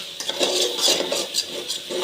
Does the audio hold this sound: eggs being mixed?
yes